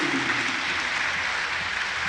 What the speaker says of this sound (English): Big applause, nevertheless